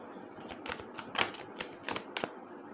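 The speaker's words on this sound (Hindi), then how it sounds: "एक बार शफल कर लूं" Tarot cards are shuffled close by in a series of quick riffling, flapping bursts with soft taps in between and a faint background hiss.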